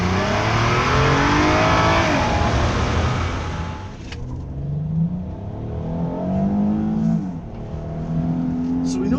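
A 2018 Hyundai Santa Fe Ultimate LWB with a 3.3 liter V6 accelerates hard, engine roaring loud at first and then dropping to a lower cabin drone, with a voice talking over it.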